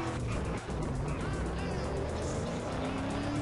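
A car in GTA San Andreas drives along with a steady engine hum rising slightly in pitch as it speeds up, close and continuous.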